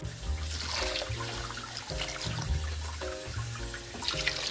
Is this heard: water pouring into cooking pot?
yes